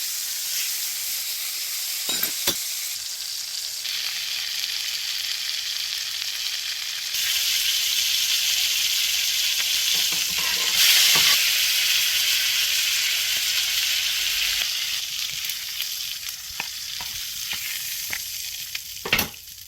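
New York strip steak frying in a pan, a strong continuous sizzle that rises and intensifies midway, dotted with crackles and spatters and a few sharp clicks of handling.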